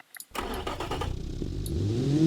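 Car engine in a video game revving up during a test of a sensible hatchback build, rising steadily in pitch and loudness after a brief silence, close and continuous with no talk.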